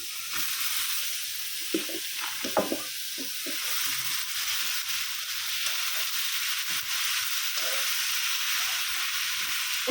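Spices with turmeric and leafy greens frying in a pan, a constant bright hiss and sizzle throughout, with soft scattered clicks and scrapes of stirring beneath it.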